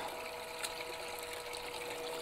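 A pump drives water through a recirculating gold sluice, giving a faint, steady motor hum under a continuous wash of flowing, rippling water.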